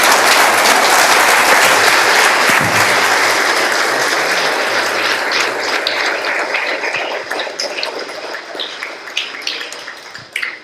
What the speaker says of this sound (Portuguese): Vamos aplaudir ao nosso Deus.